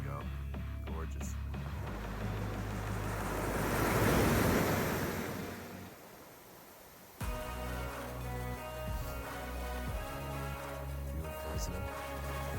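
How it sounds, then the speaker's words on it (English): Ocean waves break on a shore during a snowstorm in Canada, a steady roaring wash that swells and fades, with wind buffeting the microphone. "This is these waves, you guys."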